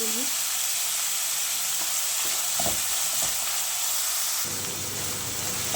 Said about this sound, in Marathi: छान परतून मी कांदा परततोय